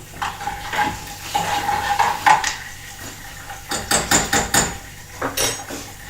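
A knife chops green onion on a cutting board, a series of rhythmic thudding knocks that get faster and steadier toward the end, close and clear, with faint kitchen clatter.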